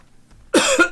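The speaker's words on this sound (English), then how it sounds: "Sorry for coughing." Several sharp coughs from a gamer playing World of Warcraft: Wrath of the Lich King, close to the mic, starting after half a second of quiet and repeating in a quick burst.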